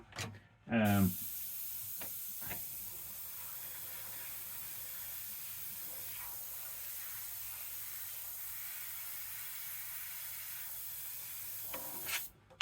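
An airbrush sprays Fastrax standard opaque black paint at low pressure, a faint steady hiss running the whole time between a few short knocks and louder bursts near the start and end.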